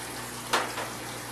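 Water poured into a small pH test vial from a hydroponic NFT system, a short close splash and trickle lasting under a second against a steady background hum.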